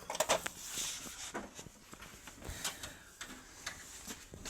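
Side compartment of a Kyocera copier being opened during jam repair, a string of faint plastic clicks, rattles and sliding knocks at close range, with no voices.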